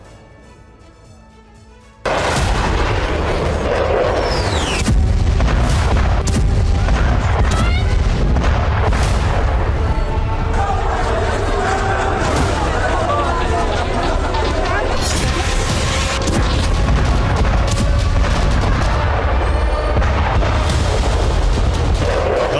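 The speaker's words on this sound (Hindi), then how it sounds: "गाजा में ऐसी जगह धमाका हुआ जहां हर वक्त भीड़ लगी रहती थी" A bomb explodes in Gaza at an open site where crowds always gathered, a sudden loud blast followed by a long chaotic roar of booms, crashes and cracks, with voices mixed into the din.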